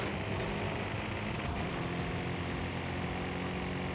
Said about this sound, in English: that sounds like an LFA V10